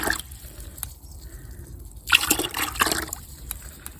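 Liquid is poured in short bursts into a measuring container for a half-litre measure, giving near, sloshing trickles and splashes separated by brief pauses, with no talking.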